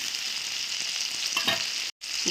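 Tomato chutney ingredients sizzle and fry in a pan, a steady hiss with a few stirring scrapes near the end and a brief dropout just before the sizzling resumes, with no talking.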